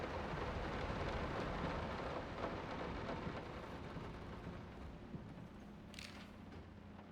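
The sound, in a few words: rain and thunder outside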